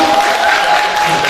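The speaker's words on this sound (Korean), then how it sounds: "여러분 박수 다시 크게 한번 드릴까요?" Loud, dense audience applause at a Korean university student forum talk concert, steady clapping filling the hall for a brief moment.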